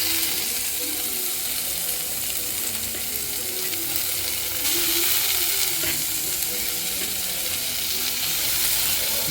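Chopped onion and tomato frying in a pan for prawn masala, a continuous close sizzle with occasional stirring and scraping, steady and fairly loud throughout.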